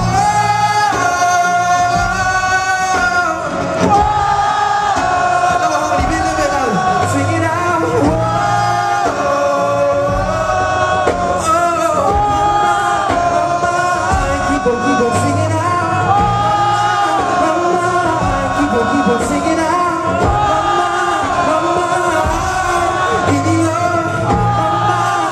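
A large concert crowd at the Roundhouse in Camden sings and shouts along in loud unison over live amplified music, sustained throughout.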